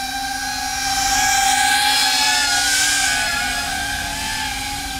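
A budget iFlight Green Hornet cinewhoop drone flies outdoors in wind near buildings, giving a loud, steady high-pitched propeller whine with slight swells in pitch and volume throughout.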